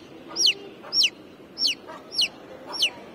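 Aseel chicken chicks calling in short, sharp, evenly spaced chirps, five bright cries about half a second apart, close and clear over a quiet background.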